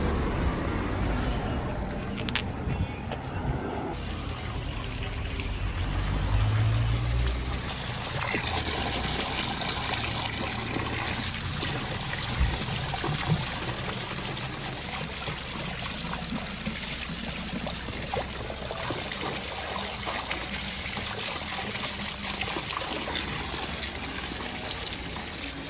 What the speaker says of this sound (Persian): بریم این دبرم پر کنیم